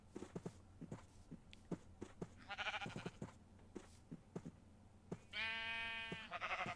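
Sheep in Minecraft bleat twice, a short bleat then a longer, louder one, over scattered footstep-like clicks and quiet game sounds with no voices.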